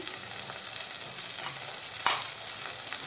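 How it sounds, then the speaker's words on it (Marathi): Chopped green chillies fry in ghee in a pan, a steady close sizzle with light stirring scrapes and one sharper clatter partway through; no one speaks. "ती या तुपामध्ये हलवून घेऊया।"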